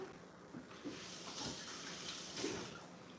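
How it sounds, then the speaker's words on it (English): Hands being rinsed under a running kitchen tap, a soft steady wash of water at close range, fairly quiet, with a few faint splashes and no talking. "give my hands a quick rinse because they have been peachified"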